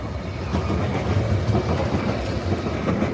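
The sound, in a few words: Nottingham Express Transit tram 215 departing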